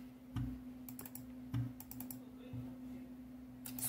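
Typing on a Vata Pro computer keyboard: a few close, sharp key clicks and small bursts of keystrokes over a constant low electrical hum, with no talking.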